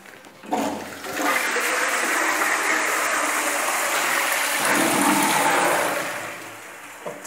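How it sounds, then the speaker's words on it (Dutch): Old-fashioned high-cistern toilet flushing in an asylum seekers' centre toilet block, a sudden loud rush of water that roars steadily for several seconds, surges once more, then tapers off near the end. "De ouderwetse hoge stortbak in de toiletgroep AZC op zaterdag 23 september 23."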